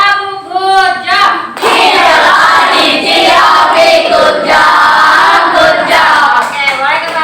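A class applauds a student group in a classroom, with a burst of many hands clapping that stays steady and dense, and some cheering voices mixed in after a short spoken lead-in.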